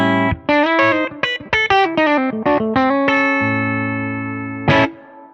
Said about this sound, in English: on the bridge pickup, if you want that nice, clear, twangy, spanky type sound